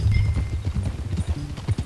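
Horse hooves clip-clop in a steady trotting rhythm in Red Dead Redemption 2, close and clear with no talk over them.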